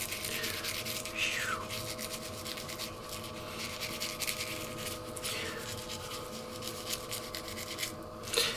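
A toothbrush scrubs a Neo Geo AES controller part in steady back-and-forth strokes, a continuous close scratchy rubbing with occasional sharper swipes.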